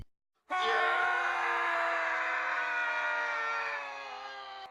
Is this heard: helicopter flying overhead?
no